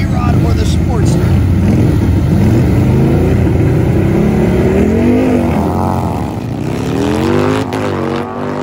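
Harley V-Rod and Sportster motorcycles launching in a drag race at a racetrack, their engines roaring loud and continuous with rising revs, while an announcer talks over the noise.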